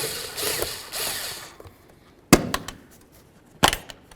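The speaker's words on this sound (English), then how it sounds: "let's loosen up this clamp right here for the air inlet. You can either use a flathead or an 8mm" A ratcheting 8mm driver loosens the air inlet hose clamp on a Jeep Liberty, giving a few sharp, close metallic ratchet clicks in short bursts separated by brief pauses.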